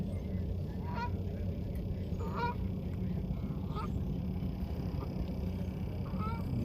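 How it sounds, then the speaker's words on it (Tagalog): Several geese honk in short bursts, spaced a second or so apart, over a steady low rumble of wind and water at Montrose Harbor, Chicago; no one speaks. "Ayan, maraming ibon na lumilipad."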